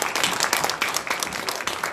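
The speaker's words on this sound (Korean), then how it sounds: "우리 박수 한번 쳐줘요." Church congregation during a Korean worship service claps together, a brief burst of crisp, dense applause at moderate volume filling the sanctuary.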